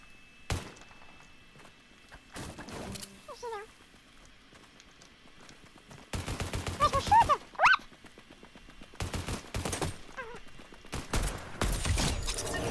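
Shotgun blasts in a French arena-mode video game, coming as several loud sharp bursts in quick clusters, with game sound effects between them and no talk over the shots.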